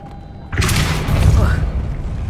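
Depulso spell cast in the video game Hogwarts Legacy, with a deep booming thump followed by a broad rumbling whoosh that lingers, loud and close.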